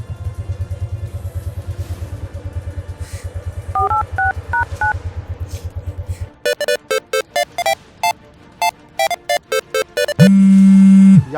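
Phone keypad tones beep in quick sequence as a number is dialed, first softly under a low rumbling hum, then loud and crisp in irregular clusters, ending in a steady ringing tone.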